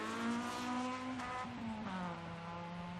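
A Honda Civic's high-revving VTEC engine screams at a steady pitch, then drops and bounces against the rev limiter, heard from a distance at a gravel rally with faint crowd noise.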